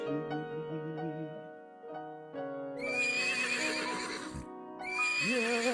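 A horse neighs loudly in several drawn-out whinnies, separated by short pauses, close by with no talking.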